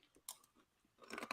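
Crunchy chocolate and strawberry cereal clusters chewed close up, a few sharp crunching bursts with a dense grinding run at the end.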